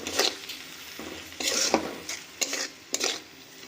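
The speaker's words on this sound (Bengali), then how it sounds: "টমেটোটাকে যতক্ষণ না কাঁচা গন্ধ যায় ততক্ষণ পর্যন্ত আমরা ভাজা করে নেব।" Grated tomato frying with spices in a pan, with a spoon stirring and scraping in several short bursts over a soft, steady sizzle.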